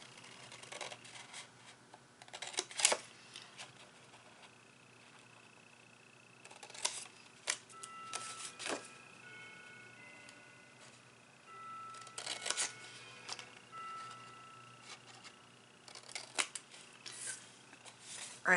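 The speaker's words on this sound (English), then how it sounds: "we're just going to cut up this square and rectangle, that score line" Scissors cutting paper along score lines while making a recipe box, close crisp snips in several bursts separated by quieter gaps with faint rustling of paper.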